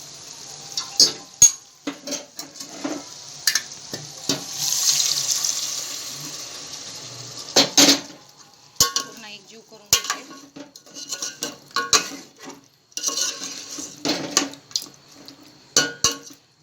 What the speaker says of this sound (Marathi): तर आता पिवळं पाणी टाकून देते मी